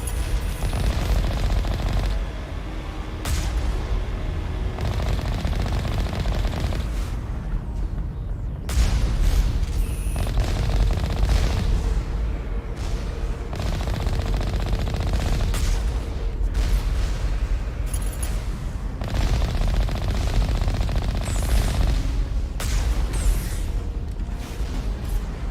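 Automated turrets firing in the PS4 video game Mass Effect Legendary Edition, sustained loud rattling gunfire and booming blasts layered over a dense battle din, continuous throughout with no talk.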